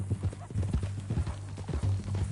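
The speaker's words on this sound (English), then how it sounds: "That new horse?" Horse hooves clip-clop in a steady rhythm close by, mixed with a whinnying neigh, from a mean-looking new horse in the Red Dead Redemption 2 video game.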